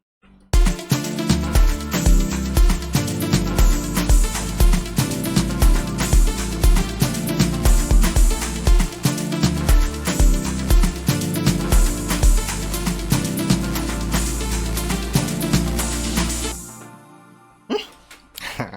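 A full afro-house mix plays loud and steady with a driving kick and layered percussion, topped by SY99 synth parts, before cutting off near the end.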